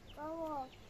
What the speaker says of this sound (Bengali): ওই দেখো মুরগি